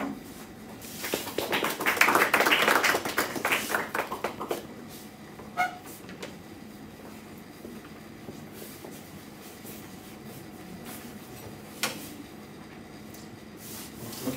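At the launch event for MCBIRD, a brief round of applause from a small audience swells for a few seconds and fades, leaving a quiet room with an occasional knock.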